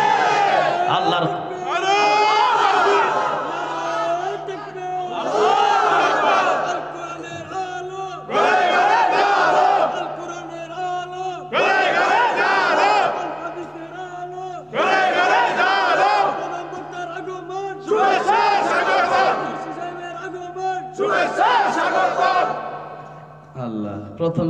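A large crowd at a religious gathering in memory of Allama Saydee chants slogans in unison, loud repeated call-and-response bursts separated by short pauses, echoing across the venue.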